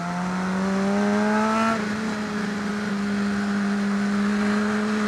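A car engine blips up in revs to rev-match a downshift, a steady rising drone that climbs, then drops sharply and settles into a lower, even hum, loud and close, with no voices.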